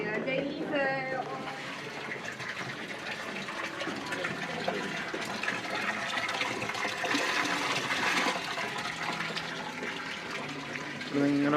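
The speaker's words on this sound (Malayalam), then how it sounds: "ഇങ്ങനെ വെള്ളം വന്നുകൊണ്ടിരിക്കുന്നുണ്ടല്ലോ." Saturated salt brine runs steadily through a salt mine about 135 metres underground, a continuous wash of flowing water heard close by while voices talk over it throughout.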